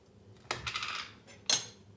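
Two sharp clinks of a spoon against a bowl as thick chocolate is scooped in, each followed by brief scraping, close and fairly quiet, no talking.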